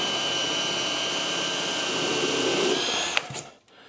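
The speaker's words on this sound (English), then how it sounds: "I'm going to countersink first." Power drill boring a countersink into plywood, a loud steady high whine close by that spins down abruptly near the end, with no talking.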